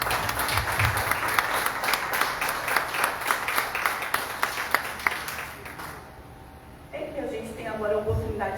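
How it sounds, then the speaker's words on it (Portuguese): A church congregation claps in a steady, rhythmic beat for several seconds, then the clapping stops and a voice begins speaking over a quieter room. "apóstolo Antônio, uma salva de palmas para Jesus pela vida dele"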